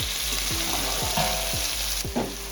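Shankar fish curry with tomatoes and salt sizzling in a pan, with steady frying hiss and rhythmic scraping stir strokes about twice a second.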